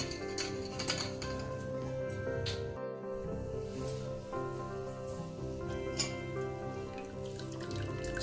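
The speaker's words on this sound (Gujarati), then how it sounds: "આ રીતે આપણે બધું પાણી નિતારી લઈશું" Hot water runs and trickles steadily as it drains off freshly made homemade paneer curds in a kitchen, a continuous faint splashing with a few louder drips.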